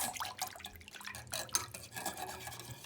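Wet, squishy stirring of a vegetable and potato casserole mixture in a bowl, with a continuous irregular scraping and sloshing rhythm, close up and without talk.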